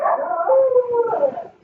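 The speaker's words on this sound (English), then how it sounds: "That's my dog. It's outside, so it's trying to come in." A dog outdoors lets out a single drawn-out howl that wavers and bends in pitch, fairly close and clear, then trails off quickly into quiet.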